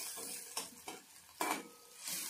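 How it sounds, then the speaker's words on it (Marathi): Mashed eggplant bharit is stirred in oil in a pan: a few distinct scraping strokes of the spoon, close and fairly quiet, over a soft, continuous sizzle. "याला मी छानपैकी तेलामध्ये कलसून घेते."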